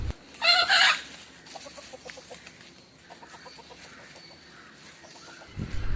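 Domestic country chickens kept outdoors give a loud squawk at the start, then settle into soft, repeated clucking nearby, with no voices present.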